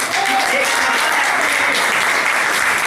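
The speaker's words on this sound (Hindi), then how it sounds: "हम चाहते हैं माननीय राशिद नसीम साहब के लिए जोरदार तालियां।" An audience at a company gathering applauds its owner with loud, sustained clapping, a thick and even wash of hands that holds for the whole stretch.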